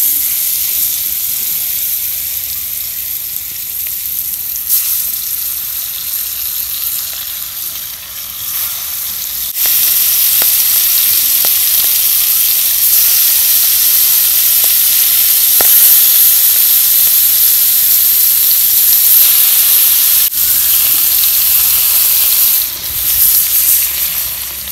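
Spice-coated pangas fish frying in hot oil: a loud, continuous close sizzle that jumps in intensity partway through and holds steady, with a few faint clicks and no speech.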